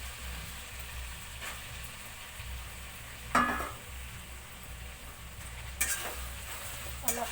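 Potatoes being stirred in a pan of Assamese pork curry, a faint steady sizzle broken by a few sharp scraping and clinking knocks of the utensil against the pan.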